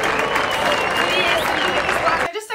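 A round of applause for a giveaway winner, steady clapping that carries for about two seconds before cutting off abruptly, followed by a brief trace of voice.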